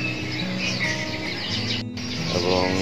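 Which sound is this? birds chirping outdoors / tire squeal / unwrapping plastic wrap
birds chirping outdoors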